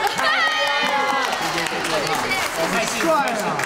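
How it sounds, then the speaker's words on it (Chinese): An audience at a variety show taping in Hsinchu, Taiwan, claps and cheers in a dense, continuous wash of applause while a host talks over it. "掌声鼓励！"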